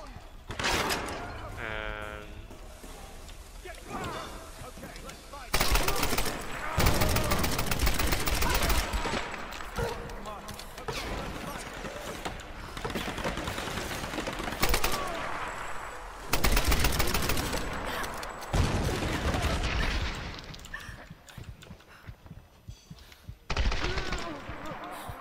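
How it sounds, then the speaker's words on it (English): Machine gun bursts and scattered gunshots in the action game Tomb Raider (2013), loud rattling volleys separated by quieter gaps of game sound, with some voices in between. "Okay, I have my machine gun now."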